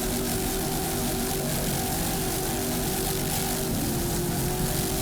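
An offshore racing powerboat roars steadily at the Miami Offshore Grand Prix, its engine droning loud and continuous with a slight shift in pitch as the throttle changes, under wind and water noise.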